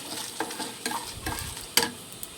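Dried red chillies and cumin seeds fry in a pan with a soft sizzle, broken by several scraping stir strokes of a spoon. The sound is close and moderately quiet.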